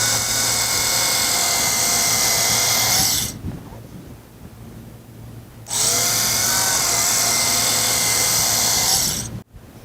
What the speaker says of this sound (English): And then use the rotary cutter